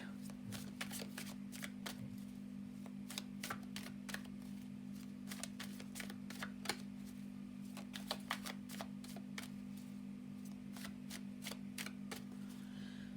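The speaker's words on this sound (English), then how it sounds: "going to have a shuffle of the black and white Faulkner deck" A black and white tarot deck is shuffled in quick riffling bursts, crisp repeated clicks and flutters over a low steady hum, fairly quiet and close.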